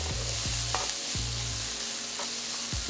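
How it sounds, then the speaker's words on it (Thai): Vegetables stir-fried in a pan for a vegan tomato-sauce baked rice, with steady broadband sizzling and regular scraping strokes of a spatula about every half second, close and continuous, no talking. "เราจะผัดผักทุกอย่างเนี่ยให้มันสุกประมาณนึงก่อนนะครับ"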